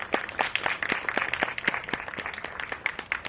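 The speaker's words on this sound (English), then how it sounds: "please give a warm applause and welcome our guest speaker for today, Professor Pushpesh Pant sir." An audience applauds to welcome a guest speaker at a talk on Indian food in art and sculpture, with sparse, distinct claps forming a moderate, uneven patter throughout.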